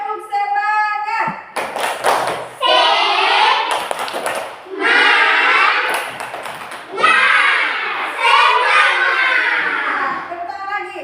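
Children in a classroom doing a rhythmic patterned clap, bursts of quick hand claps alternating with short pauses, mixed with kids' voices calling out along with it.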